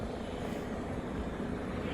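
Helicopter rotors thrum steadily overhead at a large law enforcement scene, a continuous broadband whir filling the short stretch with no talk.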